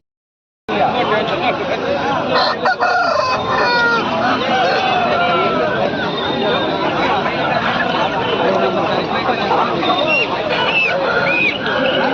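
Chickens cluck and an Aseel rooster crows amid a busy crowd at the Kundarapalli Aseel market, Krishnagiri district, with many people chattering and calling out all around in a noisy outdoor setting.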